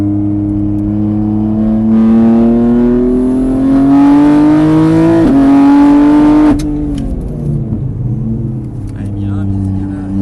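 A car accelerates hard on a race track at Mireval, the engine note climbing loud and steady over several seconds, then dropping sharply and settling into a lower drone.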